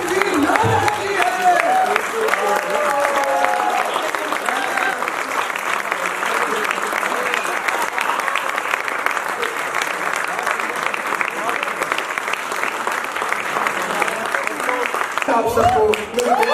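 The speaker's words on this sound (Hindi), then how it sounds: "आप खड़े होकर तालियां बजाएं" A large audience at a stage performance claps continuously and loudly for a long stretch, a dense sustained wash of applause that holds steady before tapering off near the end.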